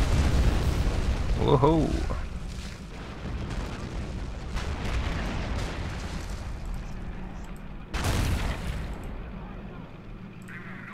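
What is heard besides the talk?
howitzer artillery fire in the video game Men of War: Assault Squad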